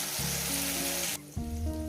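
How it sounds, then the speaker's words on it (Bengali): Sizzling masala in a pan for a Bengali bata fish and potato curry, with spice-bowl rinse water poured in: a loud broadband frying hiss that briefly drops, then bursts back up as the water hits the hot oil. "মশলা বাটি ধোয়ার জলটা দিয়ে দিলাম"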